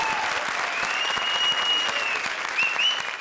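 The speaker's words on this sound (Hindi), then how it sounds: "जोरदार तालियां प्रिंस के लिए।" Loud, energetic applause from a studio audience on a television comedy show, after a performer's dance, continuous dense clapping with a faint voice or whistle-like tone rising above it.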